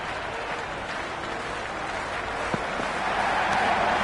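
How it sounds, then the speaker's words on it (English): A stadium crowd cheers after a hat-trick wicket in the PS5 video game Cricket 26, giving a steady, loud roar of applause and cheering that runs unbroken throughout. "That's a hat-trick and the crowd are going wild."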